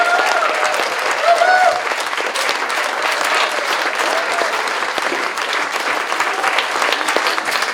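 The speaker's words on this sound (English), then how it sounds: "Let's hear another round of applause." A large audience at a Story County Democrats event claps steadily and enthusiastically, a dense, sustained wash of applause that stays loud throughout.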